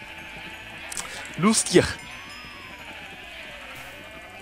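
A couple of short, wavering sheep bleats from the video game Minecraft sound close together near the middle of the stretch, under and between steady game background and someone talking.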